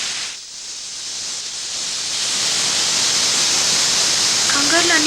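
Steam hisses steadily from a pressure cooker, a broad, loud rush that builds slightly over the seconds with no speech over it.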